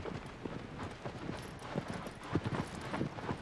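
A horse gallops in the video game Shadow of the Colossus, with rapid, steady clip-clopping hoofbeats close up and continuous over a soft background rush.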